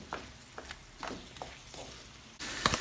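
Chicken being stirred in hot oil in a pan while making Turkish-style sauced chicken, with a run of scraping stir strokes over a low sizzle and a louder, harsher burst of sizzling near the end; no talking.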